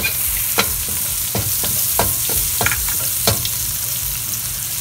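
Garlic fries in a pan with a loud, constant hiss and crackle, broken by sharp pops and the scrape of stirring, heard close up with no voices.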